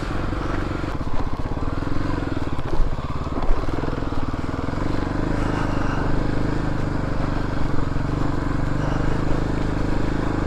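Kawasaki KLX250 dual sport motorcycle on an adventure ride through a hail storm, its engine droning loud and close with steady throttle and wind rush throughout the ten seconds.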